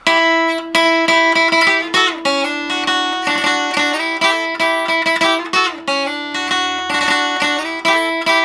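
Requinto guitar picks a melody slowly, clear plucked single notes and short runs ringing close and bright with steady articulation throughout.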